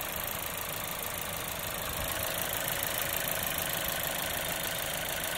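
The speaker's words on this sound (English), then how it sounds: "Hear those direct injectors clattering away." A 2016 Volkswagen Jetta 1.4L turbo engine idles steadily up close, with a fast, light ticking clatter from the direct injectors running over the hum.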